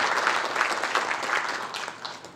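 Dense audience applause at a Korean policy conference on the Fourth Industrial Revolution, welcoming an attending guest, a continuous fairly soft wash of many hands clapping with no pauses.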